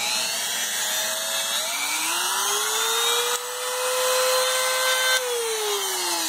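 A variable-speed Dremel-style rotary tool whines loudly and close by, its pitch climbing and shifting as the speed changes, then dropping near the end, with no talking.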